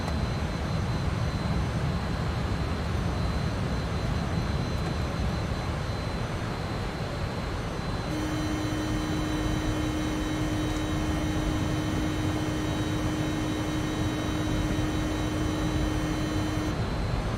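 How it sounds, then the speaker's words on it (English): Fokker F28 airliner in Microsoft Flight Simulator lowering its landing gear: a steady cockpit and engine roar runs throughout, and midway a constant hum of the gear mechanism starts and holds at an even pitch to the end. "let's go ahead and lower the landing gear"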